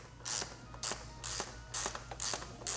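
Ratchet tool cinching 8mm hex head screws into a Kawasaki ZX-4RR undertail, six quick bursts of close metallic clicking separated by short pauses.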